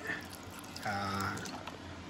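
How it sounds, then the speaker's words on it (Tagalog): Water is poured onto tamarind in a kitchen to soak it, a brief soft splashing trickle that rises in the middle and fades, faint and close amid low background noise. "Lagyan na natin ng tubig ikang ang sampalok."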